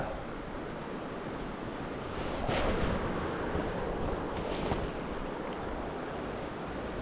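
Steady wind blowing upstream across a riverside campsite at Skresanden, a constant broadband rush with gusts swelling around the middle, close to the microphone and with no voices.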